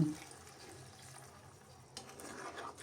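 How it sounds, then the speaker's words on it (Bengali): Water poured into a pot of simmering fish curry, a soft steady liquid wash with a slight rise near the end, quiet and close with no voices. "এখন এখানে আমি ঝুলের পানি অ্যাড করব"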